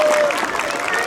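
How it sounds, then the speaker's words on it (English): School audience applauding award winners at a Golden Oak awards assembly, a loud, dense wash of clapping from a crowd with some voices mixed in. "Please give them one last big round of applause."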